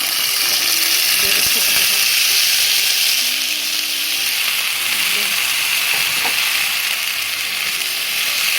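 Vegetables sizzle in a pan with sautéed garlic, giving a steady, close hiss of frying, with brief clinks of stirring and a voice talking over it.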